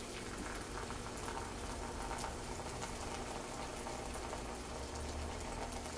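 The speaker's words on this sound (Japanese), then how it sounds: "真ん中にお湯さします" Hot water poured over coffee grounds for hand-drip coffee, a faint, steady liquid trickle and bubbling hiss that continues evenly with no voices.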